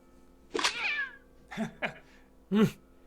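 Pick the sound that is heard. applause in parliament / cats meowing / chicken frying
cats meowing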